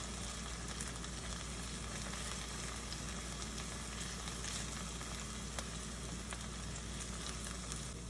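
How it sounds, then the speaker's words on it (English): Food frying in a pan sizzles heavily and steadily for the whole stretch, a dense even hiss with faint crackles and no talking. "sizzling heavily, so you want to lower down the fire a little bit."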